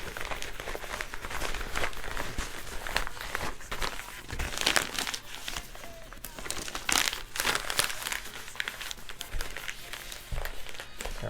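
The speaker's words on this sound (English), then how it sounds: "Our first step is to put it inside of a padded envelope." A tabletop roleplaying game is slid into a padded envelope, giving close, fairly quiet crinkling and rustling of bubble-padded paper in irregular bursts with occasional soft thumps, and no talking.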